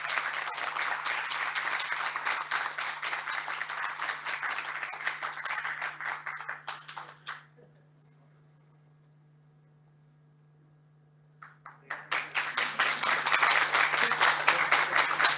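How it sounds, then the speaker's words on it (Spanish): Audience applause for the winner of the ADAD thesis and dissertation award, steady dense clapping that stops for several seconds of near silence and then returns just as full and loud. "Un aplauso para él, por favor."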